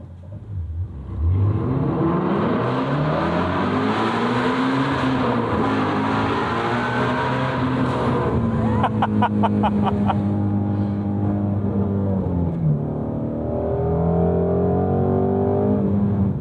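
A 2018 Ford Mustang Shelby GT350 accelerates hard through a tunnel with its window cracked open. The engine roar is loud and continuous, and its pitch rises and falls through the gear changes, echoing off the walls.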